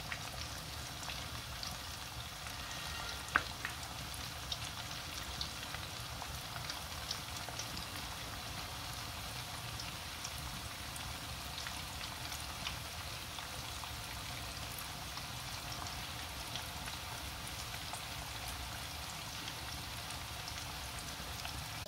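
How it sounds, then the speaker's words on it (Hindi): Chicken fingers deep frying in hot oil, a steady dense crackling hiss like rain that runs evenly throughout, with one brief sharp tick near the start and no voices. "ऐसे ही बाकी भी जो हमारे पास चिकन फिंगर है उनको भी हम ऐसे ही फ्राई कर लेंगे।"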